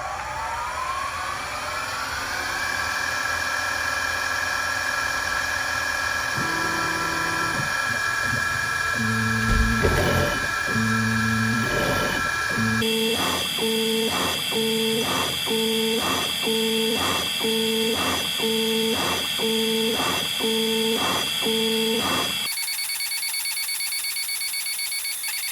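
A 10 watt RGB laser machine cutting a part in a home build, with whirring stepper motors and a steady tone giving way to rapid repeated pulsing beeps and buzzes in a regular stuttering rhythm, close and alone.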